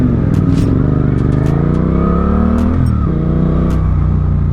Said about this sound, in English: This engine is throaty